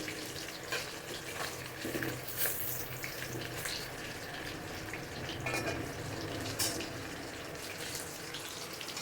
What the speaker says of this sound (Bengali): আলুটা কিন্তু আমি ভাজতে বসিয়ে দিয়েছি নুন দিয়ে। বাবা তাও ফুটছে, কেমন ছিটছে।